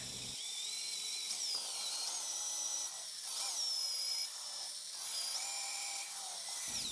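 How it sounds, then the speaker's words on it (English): A steady high-pitched drill whine boring a hole in wood runs almost continuously, with a few brief dips and pitch shifts as the bit bites, close and moderately loud. "So I'm going to go ahead and drill the hole."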